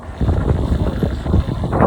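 Heavy wind buffets the microphone in a steady roar, with a low motorcycle engine rumble underneath, riding at speed.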